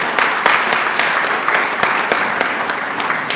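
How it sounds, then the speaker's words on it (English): Audience clapping at a community development training event in Kenya, loud and steady with sharp individual claps throughout a dense, sustained burst. "Clap for them."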